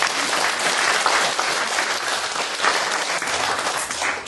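Dense, sustained applause from a church congregation celebrating Jesus, a continuous wash of many hands clapping at even loudness throughout, with no voices standing out.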